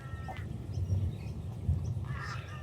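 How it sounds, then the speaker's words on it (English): Crows caw outdoors, distant and faint, a few short calls scattered over a low background rumble. "these crows, they just want to be on YouTube. Can you hear them? YouTube crows."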